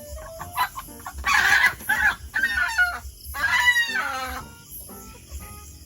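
A chicken squawks and clucks loudly at close range while being caught at a mountain hut, frantic bursts of calls with a steady low background hum.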